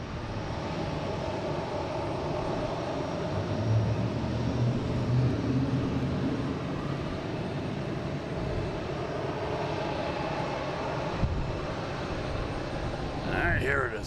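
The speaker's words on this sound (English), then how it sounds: "we just got that JetBlue heading to Milan. Flight 331." JetBlue airliner on flight 331 to Milan at Boston Logan, a continuous broad engine roar from a distance that holds steady throughout, with a brief faint voice near the end.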